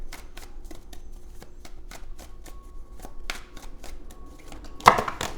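Tarot cards are shuffled by hand in quick, crisp riffling taps, close and fairly quiet, ending in a sharper slap as cards are drawn.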